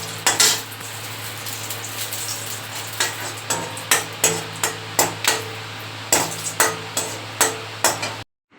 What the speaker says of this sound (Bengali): একটু শুকনো লঙ্কা ভাজবো।